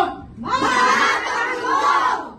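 A crowd of protesters at a rally roars out a loud, sustained collective shout that swells suddenly after a brief pause and holds for about two seconds before fading.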